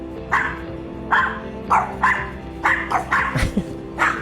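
A stray dog barks about nine times in uneven, closely spaced bursts at moderate distance over a low, steady background hum.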